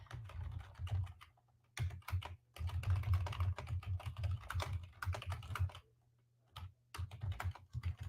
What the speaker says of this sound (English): Can't talk and type at the same time.